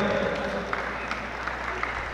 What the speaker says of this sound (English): applause to our two boxers inside the ring